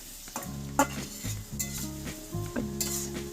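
Fish and spices, including dry chili powder and Kashmiri chili powder, stirred in a frying pan, with a soft oily sizzle and a spatula scraping and clinking against the pan in a few short strokes.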